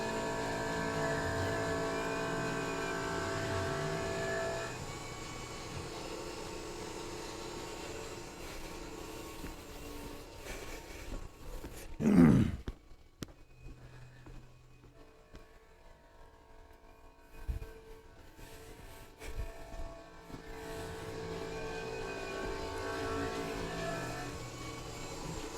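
A Tormach PCNC 1100 CNC mill spindle running at 3,000 RPM hums steadily at moderate level, broken midway by a short loud burst of cutting, then a quieter gap before the steady machining drone returns.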